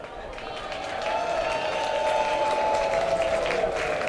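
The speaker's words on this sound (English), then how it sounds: "I've never been applauded for giving the defenses before" A baseball stadium crowd at a Detroit Tigers game applauds, a broad, steady wash of clapping that swells after the first second and then holds at an even level to the end.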